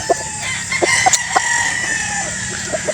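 A gamefowl rooster and chickens on a game farm cluck and call in short bursts over a loud, constant hiss of background noise, fairly close.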